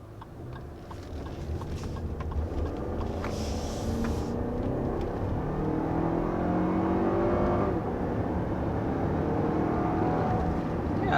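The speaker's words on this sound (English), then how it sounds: "We'll take off here again and let you guys see that acceleration and hear the engine" A 2023 Lexus RX 350 with a naturally aspirated V6 pulls hard from inside the cabin, its engine tone climbing steadily through a gear change under a low road rumble, with no talking.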